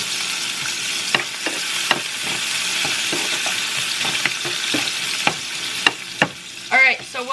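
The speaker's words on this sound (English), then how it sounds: "Gonna turn down the heat a little bit on that bacon." Bacon sizzling in a frying pan makes a steady, close hiss broken by frequent sharp pops and spatters, with a few clinks near the end and no talking.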